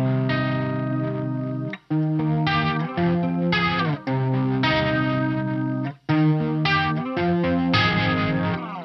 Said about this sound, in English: Many times I add chorus to the clean sounds,